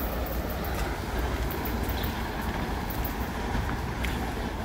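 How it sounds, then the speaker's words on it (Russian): An electric commuter train rushes past near the tracks at Lazarevskoye, Sochi, a loud continuous roar of wheels and carriages with faint rhythmic clicks, filling the whole stretch without talk. "опять от меня сбежала последняя электричка"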